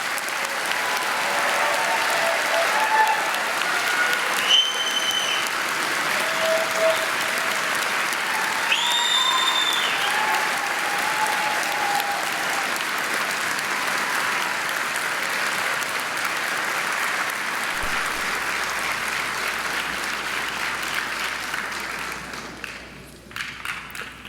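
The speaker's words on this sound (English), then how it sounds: "So one final applause for our graduates of 2025." Sustained applause from a large crowd at a graduation ceremony, steady clapping with a few cheers and whistles, fading near the end.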